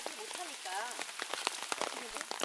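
Rain patters steadily onto a small open sports ground in front of a library in Seoul, used as a barefoot walking spot, with a voice-like murmur mixed into the dense crackle of drops.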